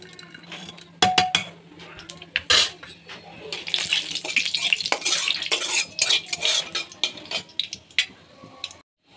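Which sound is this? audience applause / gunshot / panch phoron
panch phoron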